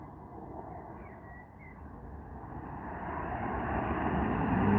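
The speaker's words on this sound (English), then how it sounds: "Another little Ryanair flight." A Ryanair airliner arrives at an airport, its engine roar a broad steady drone that swells gradually louder as the plane approaches.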